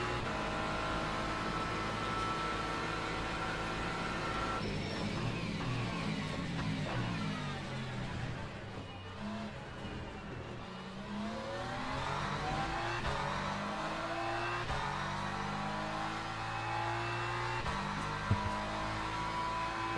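Hypercar racing cars roar past on a Le Mans Ultimate circuit, a continuous, loud, layered engine drone with pitch sweeps rising and falling as cars close in and pull away, dense and steady throughout.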